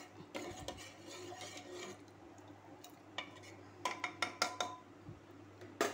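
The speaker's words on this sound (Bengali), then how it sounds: "ডালটাকে ভালো করে এখন ঘেটে দেব মশলাগুলো দিয়ে, যেন মিক্সড হয়ে যায় মশলাগুলো" Dal mixed with spices, including cumin powder, is stirred in a pan: soft scraping and a run of light metallic clicks, with a cluster of quick taps toward the end, all quiet and close.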